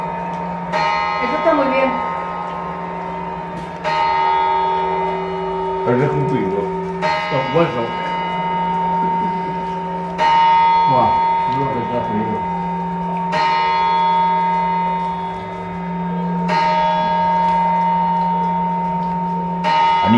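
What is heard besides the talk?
church bell chimes at New Year's midnight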